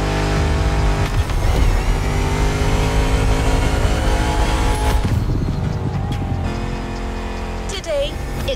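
A BMW M5 Drift Edition in the video game The Crew Motorfest, its engine droning loud and steady with rising revs and a few shifts in tone, while a voice talks over it throughout.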